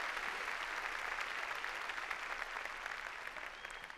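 Congregation at a church service clapping loudly in praise, a dense, steady wash of applause that thins slightly toward the end, no voices standing out.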